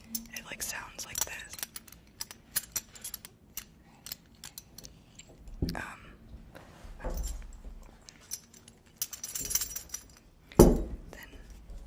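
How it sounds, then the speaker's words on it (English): Metal bit and hardware on a horse bridle clink and jingle up close in sparse, irregular taps, like a horse chomping on the bit, with soft whispering in between. "And so when you hear them chomping on the bit,"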